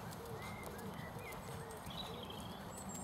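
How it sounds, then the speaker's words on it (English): Horse hooves cantering in an outdoor riding lesson, a steady soft rhythmic drumming under constant background noise at moderate level, with faint bird calls above. "Lauren, pick up canter when you're ready to"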